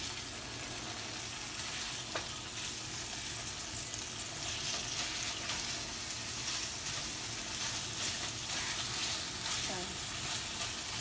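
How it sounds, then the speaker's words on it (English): Fish fillets fry in a pan for fish laab, three at a time, making a continuous moderate sizzle and crackle with faint occasional clicks and no talking. "I'm going to cook the fish."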